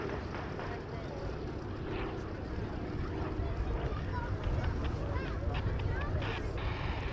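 A Douglas DC-3 Dakota flies over an airshow, its propeller drone a steady, moderately distant rumble mixed with wind noise that swells slightly toward the end.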